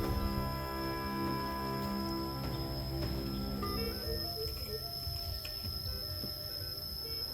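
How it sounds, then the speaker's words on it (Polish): Cicadas in the wetlands around the temples of Angkor in Cambodia drone in a constant high, shrill buzz, layered with other steady insect tones at middle distance, unbroken throughout. "zwierzaki jakieś, cykady, podmokłe tereny"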